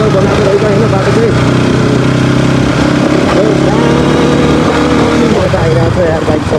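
A Bajaj NS 200 motorcycle rides along a road, its engine droning loud and steady throughout, with harmonic whine shifting slightly in pitch; a rider's voice talks over it intermittently.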